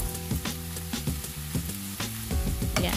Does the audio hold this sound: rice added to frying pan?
yes